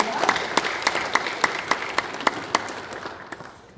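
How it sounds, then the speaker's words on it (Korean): At an Easter union worship service in Sejong, a congregation gives thanks with applause. The clapping starts as dense, rhythmic unison and fades away toward the end. "깊은 감사의 박수를 올려드리겠습니다"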